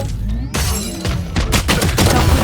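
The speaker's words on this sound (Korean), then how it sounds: "모든 미사일 발사" A missile barrage fires in Valorant, arriving as a dense run of loud, overlapping blasts and booms that build from about half a second in and keep pounding through to the end, close and heavy.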